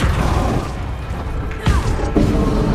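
A Flipendo spell cast during combat in Hogwarts Legacy, a loud dense roar of game effects and music with a sharp impact burst partway through, then another swell.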